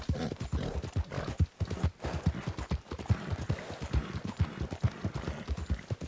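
Hooves of a horse in Red Dead Redemption 2 clip-clop in a steady walking rhythm along a road, close and continuous, with a brief faint whinny.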